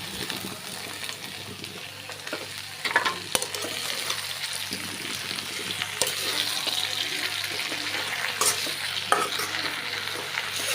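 Onions and greens fry in a pan with salt, giving a continuous sizzle broken by scraping stirs and occasional clinks, with a watery hiss underneath and no one talking.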